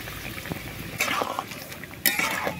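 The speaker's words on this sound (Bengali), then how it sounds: "এবারে দিয়ে দিচ্ছি সর্ষে বাটা" Mustard paste goes into a pan of boiled pumpkin and mango curry, with wet liquid sounds and two sharp clinks of a utensil against the pan, close and clear.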